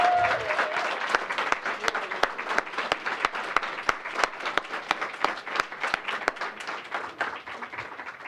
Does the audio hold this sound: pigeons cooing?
no